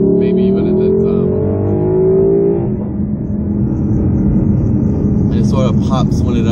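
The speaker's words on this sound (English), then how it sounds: "I hope the mic is picking up enough of this exhaust note" Lexus LC500 exhaust note, a loud sustained engine drone rising in pitch as the car accelerates, then settling into a steady roar with someone talking over it near the end.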